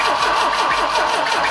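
An Opel Manta engine cranks and struggles to catch, a steady, loud churning with rhythmic starter pulses that never settles into a clean idle, close by.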